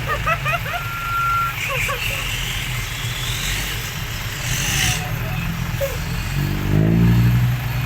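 A dump truck in a convoy arriving at a muddy parking ground reverses while rhythmic beeps sound, its engine rumbling underneath and revving near the end, with voices and crowd noise around it.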